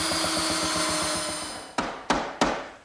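A belt sander grinds steadily against excess wooden dowel, a continuous whirring abrasion that winds down, followed by three sharp knocks.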